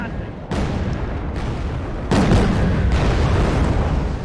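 Artillery fire in the war game Wargame: Red Dragon: heavy booming blasts with a dense, rumbling roar, two big onsets that step the loudness up, and a sustained barrage.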